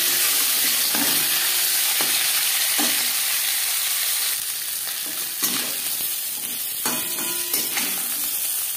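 Marinated katla fish head frying in hot oil in a pan, a steady loud sizzle with bursts of spitting and crackling and a few stirring knocks, no voices.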